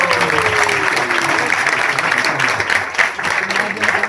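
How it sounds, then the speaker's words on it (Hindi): Audience applause at a stage show in a hall, a loud sustained burst of many hands clapping together that holds steady for a few seconds. "जोर से तालियों के साथ स्वागत करें।"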